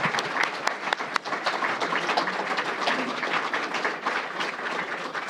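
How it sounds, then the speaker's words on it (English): An audience at a Tucson mayoral candidates forum bursts into sustained applause, dense steady clapping filling the room for several seconds at an even level. "what about a round of applause?"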